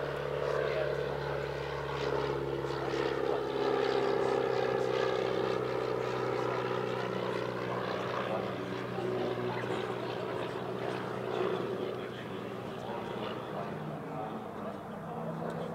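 A post-war AOP-6 propeller aircraft with a larger engine and bigger propeller flies past at a Midlands airshow, its steady droning engine holding loud and fairly close before easing slightly as it moves away.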